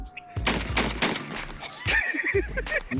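Several sharp gunshots ring out in quick bursts, punctuated by shouting voices nearby.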